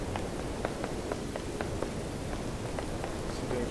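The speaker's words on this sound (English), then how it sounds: "it's raining pretty hard already." Heavy rain in the horror video game Detention, a steady dense hiss with faint repeated drip-like taps, continuous and moderately loud, with no voices.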